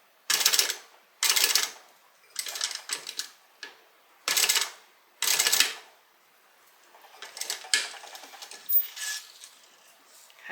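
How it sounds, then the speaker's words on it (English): Sewing machine running a basting stitch along a zipper on a tote bag: several short, close bursts of rapid mechanical clatter separated by pauses, then looser, lighter rattling stitches. "I'm just going to take and just do a little basting stitch here."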